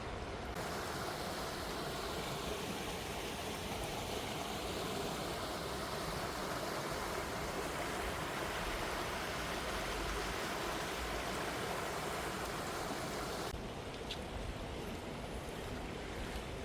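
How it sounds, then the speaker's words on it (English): A woodland river runs full after several days of rain, a steady broad rushing roar that stays even and close throughout, with no voices over it. "this river's running quite full"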